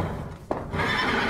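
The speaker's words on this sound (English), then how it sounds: "It's the horse." A horse gives a short, faint whinny from a distance, a single brief call against a quiet background.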